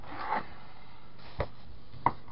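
Three separate knife chops cut through smoked sausage on a board, spaced about a second apart, each one a short, close, sharp knock in a quiet kitchen.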